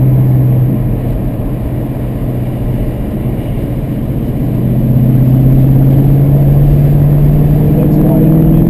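A car accelerates on a race track with softened throttle response, a loud steady engine drone whose pitch climbs gradually, heard from close by amid wind rumble.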